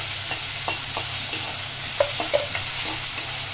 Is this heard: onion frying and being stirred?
yes